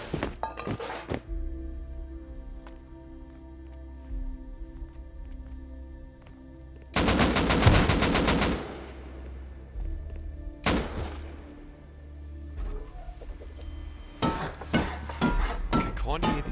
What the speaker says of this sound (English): I can kind of hear these like scuffed gunshots upstairs